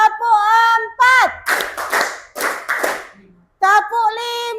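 High school biology students play a classroom clapping game: group voices chant, then several sharp rhythmic bursts of unison clapping ring out close by, a brief pause follows, and the chanting resumes.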